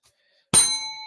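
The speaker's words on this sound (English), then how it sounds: "And there's the bell, Dennis." A single bell struck once after a brief silence, a sharp metallic clang followed by a clear ringing tone that slowly fades.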